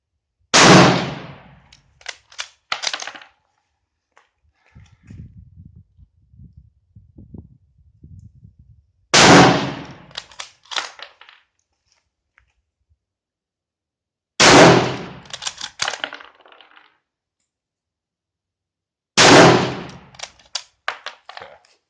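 Four loud, sharp rifle reports from a French MAS 36 bolt-action in 7.5x54mm, spaced about five seconds apart outdoors, each with a short echoing tail and quieter handling clicks of the action between shots.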